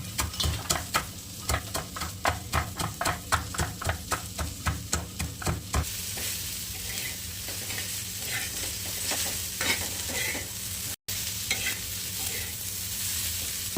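Okra with crushed peanuts cooks in a pan, first with a run of rhythmic stirring scrapes, then settling into a steady soft sizzle.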